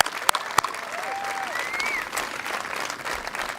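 An audience at the Westwood Junior Senior High School 2020 graduation gives a round of applause, a dense steady patter with a couple of sharp louder claps near the start and a few whistles rising over the crowd.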